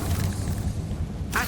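A Confringo blasting-curse explosion in the game Hogwarts Legacy, used against spiders, gives a brief, low, rumbling boom that sounds muffled and fairly quiet, with a faint sharper burst near the end.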